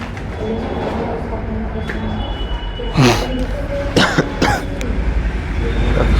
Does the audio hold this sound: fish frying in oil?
no